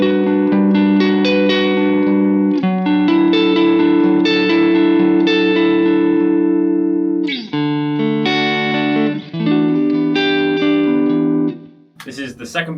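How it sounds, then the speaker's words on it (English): Telecaster electric guitar on its neck pickup with a clean tone strums basic chords, ringing sustained and loud with brief gaps between changes. "let's just hear some kind of basic chords played with a clean tone so we can really hear what these pickups are doing"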